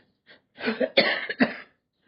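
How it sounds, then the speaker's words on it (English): A single congregation member coughs during a Sunday service sermon, a few harsh throaty bursts close by in an otherwise quiet room. "We don't mind the cough because it aids our dissertation"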